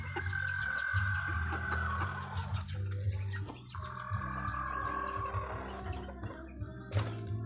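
Chickens clucking and calling around a rooster on a farm with young chicks, a busy steady chorus of clucks and chirps close by, with scattered sharper calls and a low background rumble.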